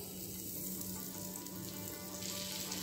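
Butter sizzles in a hot wok (kadai) as a steady, dense frying hiss that stays close and even throughout, with no talking.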